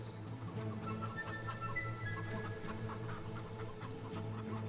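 Chickens cluck in the video game Fable 3, a run of short fowl calls over a steady, droning game background with no talking.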